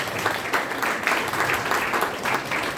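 Steady, dense applause from an audience at an entrepreneurship workshop, a continuous wash of many hands clapping at a fairly loud level throughout.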